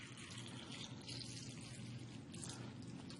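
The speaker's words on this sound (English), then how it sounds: "we're just going to simulate that by pouring some tap water in here" Tap water pours steadily into a bowl of tomatoes, a continuous close splashing trickle that runs unbroken and alone at low volume.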